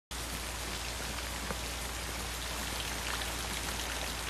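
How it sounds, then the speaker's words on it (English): Heavy rain pours steadily in a 1960 film scene, a dense, loud, continuous hiss of drops hitting surfaces with no break and no voices over it. "I've been in rain like that before, and I did just pull over like right away"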